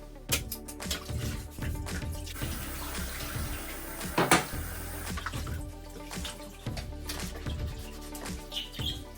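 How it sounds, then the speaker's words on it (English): Hot tap water runs steadily while bird cage toys are rinsed beneath it, with clattering and splashing as the items are handled under the stream, and a few faint bird chirps in the background. "then rinse it under some hot water to wash off any other stuff that I don't want on there"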